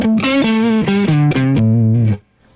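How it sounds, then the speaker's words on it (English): Blues electric guitar run through two stacked overdrive pedals, the second set dark and high-gain after a mid-heavy Clarksdale, plays a short sustained phrase of distinct notes stepping downward, thick and saturated, ending on a held low note that cuts off. "I also like to EQ my second pedal pretty dark and quite gainy when stacking pedals"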